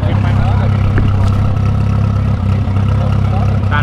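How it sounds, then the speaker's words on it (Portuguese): A Chevrolet Corsa's exhaust rumbles loudly and close beside a street drag race, a steady, deep idling drone with slight pulsing throughout. "Olha o escape desse Corsa."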